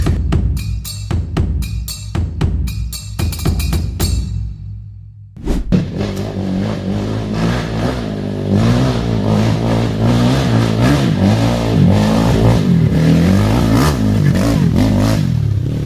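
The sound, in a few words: Kawasaki KLX 207cc trail motorcycle engine revving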